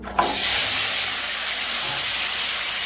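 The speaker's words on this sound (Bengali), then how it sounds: "ওলটা এবার ভেজে নেব" Elephant foot yam frying in hot oil with whole cumin, giving a loud, steady hiss that starts abruptly and holds unbroken close by.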